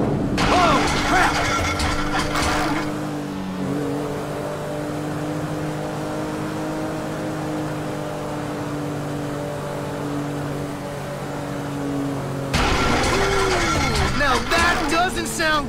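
A failing boat engine in the video game GTA V drones with a rough, uneven tonal hum, bracketed by bursts of louder, messier engine and mechanical noise at the start and end, while a voice talks over parts of it.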